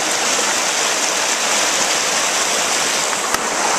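Rushing water pours loudly and continuously in a dense, roaring wash, with one brief sharp click near the end and no voices.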